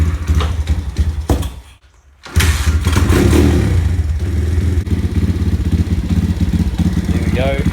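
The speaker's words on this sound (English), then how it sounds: "The exhaust is nice and quiet, but it's still got a pretty meaty tune to it." Thumpstar TSX-140 dirt bike, a 2017 model, kicked over after a short lull, then its engine runs at a steady idle with a meaty, fairly quiet exhaust note, close and loud throughout.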